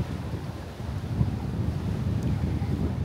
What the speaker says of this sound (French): je pense qu'il y a des bonnes vagues ici